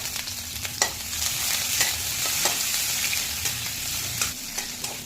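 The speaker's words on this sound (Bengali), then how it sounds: "এবারে ক্যাপসিকামটা একটু ভেজে নেব হালকা করে।" Capsicum frying lightly in oil makes a continuous, even sizzle with small stirring clicks and taps scattered over it.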